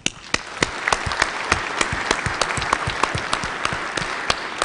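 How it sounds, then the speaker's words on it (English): In the Hawaii House of Representatives chamber, a crowd gives a round of applause, dense and steady clapping with sharper individual claps standing out, sustained throughout at a moderate distance. "So if we can please give her a warm round of applause."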